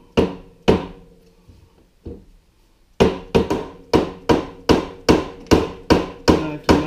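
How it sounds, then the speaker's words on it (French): A small hammer taps on a part of a 1994 Yamaha Kodiak 400 ATV: a few scattered hits, then a steady run of sharp, ringing metallic strikes about twice a second, loud and close with no talk. "Avec un petit marteau."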